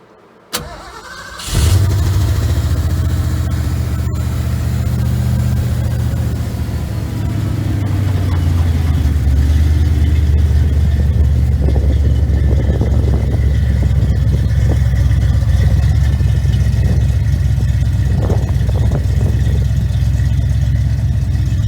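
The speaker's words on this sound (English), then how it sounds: "I could also show you here, just a nice cold start if you want." A Ford Ranger with a 302 V8 engine, completely cold, cranks briefly and fires up, then settles into a loud, steady, deep idle with a rough rumble that continues close by with no talking.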